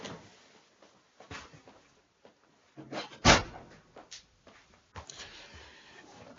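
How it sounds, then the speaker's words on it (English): A door being shut indoors lands as one close, loud broadband thump, ringed by quieter shuffling and small handling noises. "let me close my door."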